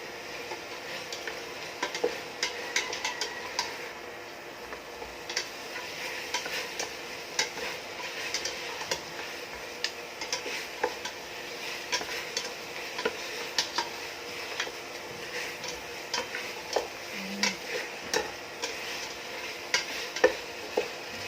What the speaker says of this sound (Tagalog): Pag na-reduce po ay ukay-ukayin natin.